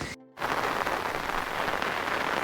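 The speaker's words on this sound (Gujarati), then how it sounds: "ફૂલ વરસાદ આવે છે, જોઈ લો તમે" Heavy rain pours down at Ajmalgadh hill station in Gujarat. A brief silent gap comes first, then a loud, even rushing hiss of rainfall continues without a break.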